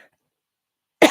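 A single sharp cough bursts out suddenly after a second of silence, close and loud, from someone with a cold.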